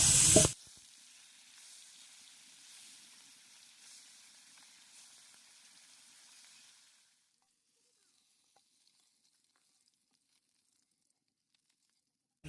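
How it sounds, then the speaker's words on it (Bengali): Fish frying in hot mustard oil gives a steady, close sizzling hiss that fades out about halfway through, leaving near silence. "এবার আমি তেল দিয়ে দেবো সর্ষের তেল মাছটা ভেজে নেবো"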